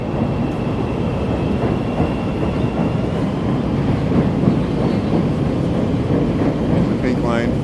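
A Chicago L Pink Line elevated train rolls past near the Riverwalk with a loud, steady rumble and rattle of wheels on track throughout, plus a brief faint squeal near the end.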